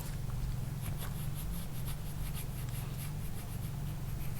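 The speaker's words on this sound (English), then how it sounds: "So drawing in the black crowns" A pen fills in black crowns in a colouring book with soft, steady, continuous scratching strokes, close and quiet, over a low constant hum.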